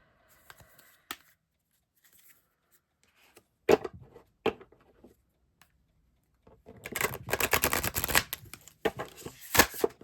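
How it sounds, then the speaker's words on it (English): A deck of cardstock playing cards is shuffled close by: a couple of quick flicks, then a sustained riffling flutter of cards ending in a sharp snap, with quiet pauses between. "we'll just do a test shuffle."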